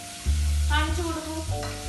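Sardine curry masala with crushed gooseberry being stirred in a pan, a soft close sizzle with two short bursts of scraping from the spoon, with no voices.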